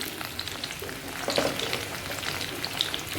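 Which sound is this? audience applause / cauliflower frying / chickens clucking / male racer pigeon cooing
cauliflower frying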